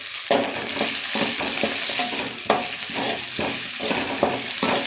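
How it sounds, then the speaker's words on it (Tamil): Dried red chilies, cumin, peppercorns, coriander seeds and curry leaves being sautéed with onion for a snake gourd seed chutney, a steady close sizzle with repeated stirring scrapes throughout. "இப்போ அடுத்ததாக நாம் வரமிளகா, சீரகம், மிளகு, கொத்தமல்லி, கருவேப்பிலை இது எல்லாத்தையும் இது கூட சேர்த்து வணக்கிக்கலாம்."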